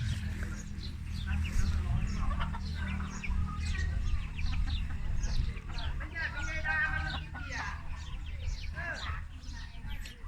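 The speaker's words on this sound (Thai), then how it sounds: "ไก่เขาจะเลี้ยงเป็นล็อกๆนะครับ" A flock of chickens raised in pens on a small farm clucks and chatters continuously under a voice talking, with chirpy calls scattered throughout.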